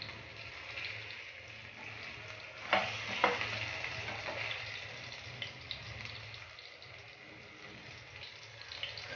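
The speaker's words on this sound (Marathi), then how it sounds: "या साईडने पण आपण 2-3 मिनिट फ्राय करून घेऊया" Pieces of Vam fish sizzle steadily as they fry in a pan after being flipped, a quiet continuous crackle with a few clinks from utensils, no talk.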